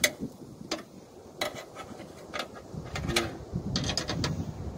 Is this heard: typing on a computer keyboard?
no